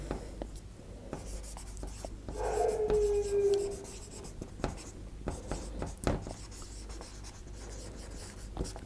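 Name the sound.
writing on a board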